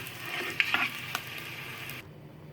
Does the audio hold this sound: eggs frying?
yes